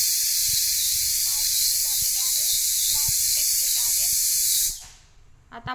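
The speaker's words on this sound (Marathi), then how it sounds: "कुकरला झाकण लावून 5 ते 6 शिट्ट्या होऊ द्यायच्या आहेत" A pressure cooker cooking khichdi lets out a loud, continuous whistling hiss for several seconds, then abruptly cuts off, with a faint voice underneath.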